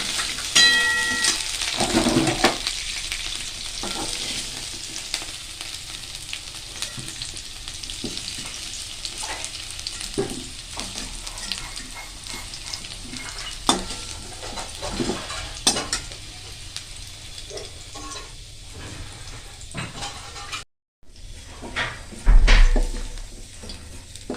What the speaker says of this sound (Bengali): আলুগুলো ভাজছি